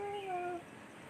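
A pet cat gives a single short, tonal meow at the start, fairly faint, followed by quiet background.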